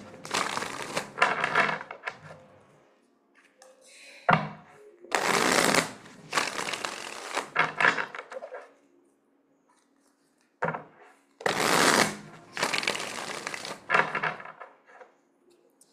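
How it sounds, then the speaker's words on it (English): A tarot deck being shuffled and cards drawn, bursts of crisp riffling and sliding card noise in several close, loud bouts separated by short quiet gaps, with no talking. "I'm going to pull out three cards from the tarot"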